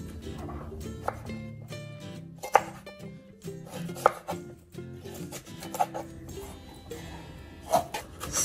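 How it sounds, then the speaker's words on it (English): A knife cuts food into small squares on a board, making a series of separate chopping taps with short pauses between them, fairly quiet and close, with no talk over them. "You're gonna cut them into these small squares."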